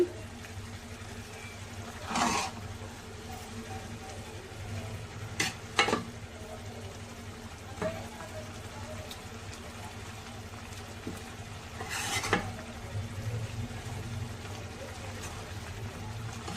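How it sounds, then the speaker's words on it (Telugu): Semiya masala is stirred into water in a cooking pan, with soft scraping strokes at irregular intervals over a quiet, steady low hum. "ఈ మసాలా అంతా పట్టుకునేలా వాటర్లో అంతా కలిసిపోయేలా మనము బాగా మిక్స్ చేసుకోవాలి"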